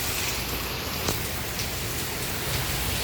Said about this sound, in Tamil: தொடர்ச்சியாக மழை காலையிலேருந்து பெஞ்ச வண்ணமே இருக்குது